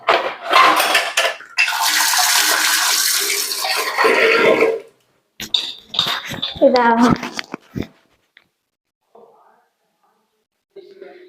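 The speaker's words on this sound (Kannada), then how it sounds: "ಸ್ಪೂನ್ ತೊಗೊಂಡ್ಬಿಡ್ತೀನಿ ರೀ ತೊಳೆದಿಟ್ಕೊಂತೀನಿ" A spoon rinsed under running kitchen tap water, with clinks of metal against dishes and a steady wash of flowing water in the first half, then someone speaking briefly amid quieter pauses.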